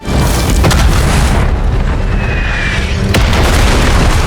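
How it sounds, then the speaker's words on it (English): A cannon fires as zombies reach a castle gate in a zombie movie scene, a loud sustained boom rumbling over dense roaring noise, with a sharp crack near the end. "They would only fire the cannon when the zombies reached the castle gate"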